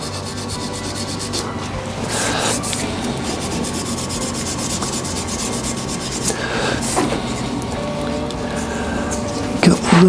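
Sandpaper rubs against a zebrano wood pen spinning on a lathe, a continuous scratchy hiss with brief louder rasping bursts as the pressure shifts, close and steady throughout.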